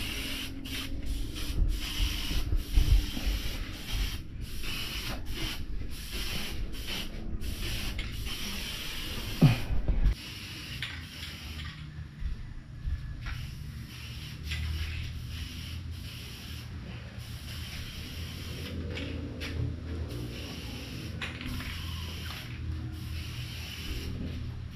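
An aerosol can of insect spray hisses in long, rough bursts for over twenty seconds against mosquitoes in a room during a power outage, fairly close and with no one speaking.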